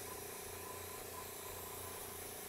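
An airbrush spraying paint gives a steady, faint, even hiss of air that holds level without a break from start to finish.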